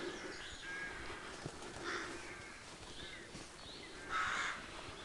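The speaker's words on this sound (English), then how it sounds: "As you can hear, crows have nesting up here, which are a pain." Crows caw intermittently at a distance from their nests in a quiet wood, with one louder, closer call near the end.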